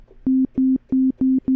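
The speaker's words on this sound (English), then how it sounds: "That's a sine wave." A steady pure sine-wave tone from a Menace synthesizer pulses five times in even bursts, each clean and bright with short silences between, no voices.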